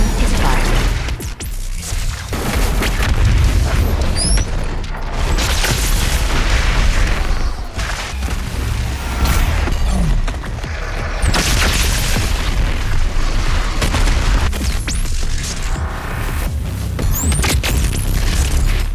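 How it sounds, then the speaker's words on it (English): BFG-9000 plasma gun from Doom firing, heavy booming blasts with mechanical clanks and crashing impacts in a dense, loud game battle, a voice speaking briefly over it. "Warning, BFG-9000 is fired."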